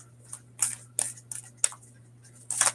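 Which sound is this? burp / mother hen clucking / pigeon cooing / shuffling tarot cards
shuffling tarot cards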